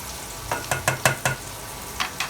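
Flour stirred and frying in a hot pan for a steak dinner with glazed carrots, making a run of five short, evenly spaced scraping sizzles, then two more after a pause, close up with no talk.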